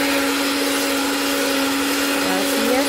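Electric hand mixer whirring steadily while beating cream into eggs for pan de nata, a continuous close motor drone with a constant pitch and no talk over it.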